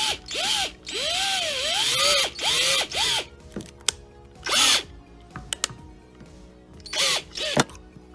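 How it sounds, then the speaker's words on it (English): A power drill bit reams a hole in an arcade cabinet. Several short whirring bursts rise and fall in pitch, with brief pauses and clicks between them. "just taking another drill bit and try to pull away the extra excess here. Drill the hole again"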